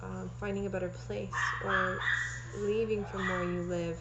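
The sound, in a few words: dogs barking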